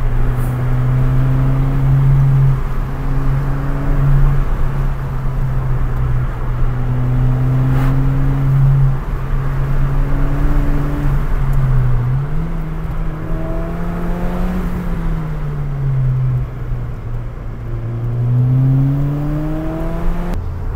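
A Ford Fiesta ST engine pulls hard through the gears, its loud, close drone holding steady, then dipping and rising again at each shift over a long stretch, with road roar underneath and no voices.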